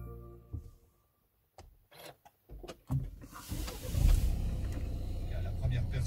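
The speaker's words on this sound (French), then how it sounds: "Démarrage de la voiture." A Renault Mégane car engine cranks with a few short bursts, then catches and settles into a steady, loud idle rumble close by.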